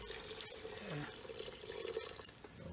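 Water poured into a pot of seasoned chicken stew, a soft running trickle with faint splashing, quiet and close, with low background noise.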